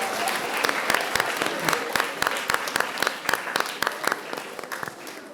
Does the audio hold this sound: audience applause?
yes